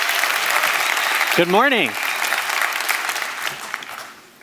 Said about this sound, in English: I hope you're all clapping for yourselves and not me